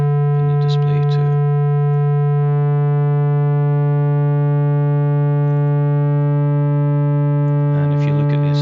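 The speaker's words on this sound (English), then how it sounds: "If I introduce some of the DC offset, that will make the distortion asymmetrical" A steady sine tone with asymmetrical harmonic distortion from an added DC offset hums continuously with a rich stack of harmonics, while someone talks at the start and end.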